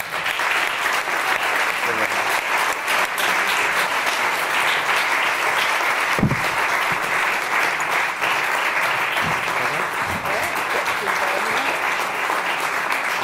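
A large audience at a film award ceremony claps loudly and continuously, a dense, sustained roar of applause filling the hall, with occasional voices underneath.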